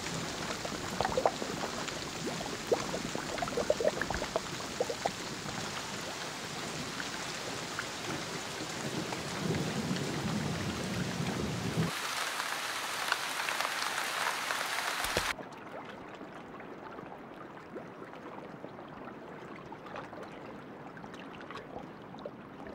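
Rain pours down in an American swamp during a thunderstorm, with low rumbles of thunder under the steady hiss before the downpour quiets and thins.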